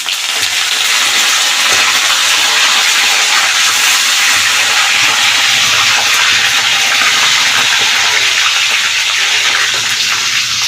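Loud, continuous sizzling and hissing of curry leaves frying in hot oil for a tempering, steady and close, with no voices.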